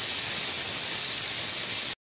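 A loud, steady high-pitched hissing whistle from a kitchen mixer grinder runs continuously, then cuts off abruptly.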